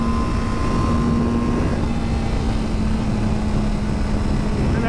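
A 23-year-old Yamaha R7 OW-02 sport motorcycle drones steadily while riding on the road, a loud constant engine tone mixed with heavy wind rush throughout.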